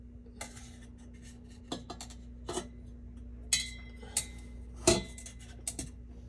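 Metal and glass objects clink and clatter as they are set into a pot on an electric stove during a thermodynamics lab exercise, a handful of sharp separate knocks over a steady low hum, close and fairly quiet.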